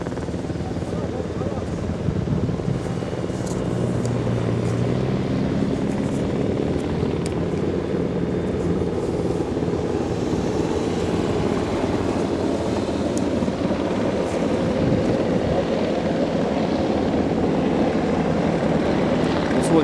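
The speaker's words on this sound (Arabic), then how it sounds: "هذه الطائرة المروحية تابعة لسلاح الجو إلى المستشفى الميداني." An Air Force helicopter flies overhead during a national emergency response exercise at an oil field, its rotor throbbing as a steady, loud, continuous drone without pause.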